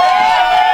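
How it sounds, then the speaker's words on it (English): A large crowd cheers at a lively event, a loud, sustained roar of voices that fills the whole brief moment without letting up. "the crowd is loving this, Moondog."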